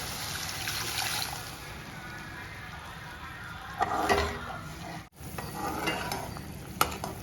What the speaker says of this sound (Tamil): 1 கிளாஸ் தண்ணி ஊற்றிக்கிறேன்.